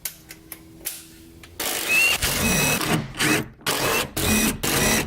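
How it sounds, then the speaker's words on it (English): A T40 Torx bit on a power driver removing the bolts from a Jeep hardtop, a whirring motor heard in several loud bursts with short pauses between, close by after a few quiet clicks. "to do that we're going to use a T40 Torx bit"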